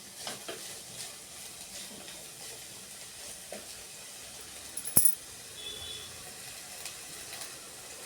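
Chopped spring onion stirred and frying in hot oil in a pan, with a soft steady sizzle, light scraping strokes and one sharp clank of the utensil midway.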